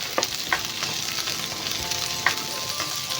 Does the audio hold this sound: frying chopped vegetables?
yes